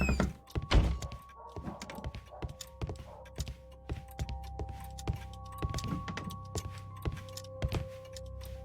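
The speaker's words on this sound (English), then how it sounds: "Mr. Butler's key matches the lock perfectly." A key turning and clunking in the lock of a pawn shop door in a Sherlock Holmes game, a series of dull knocks and clicks spread over several seconds against a steady low hum.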